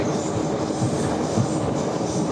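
A Tashkent metro train runs underground, heard from inside the car as a steady loud rumble with rail clatter and a faint metallic squeal, and no talking.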